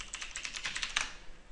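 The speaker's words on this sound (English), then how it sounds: "you just need to go to Google and type" Rapid run of keystrokes on a computer keyboard, a quick steady patter of light clicks close by, alone without voices.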